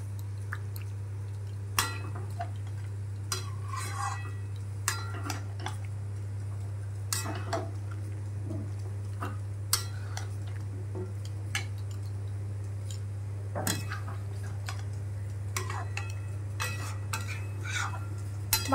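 A spoon scrapes and clinks against a pot as vegetables such as pointed gourd and potato are stirred and mixed for a chicken curry, with irregular close taps over a steady low stove hum and no talking.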